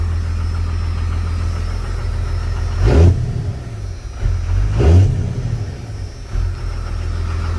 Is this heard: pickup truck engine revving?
yes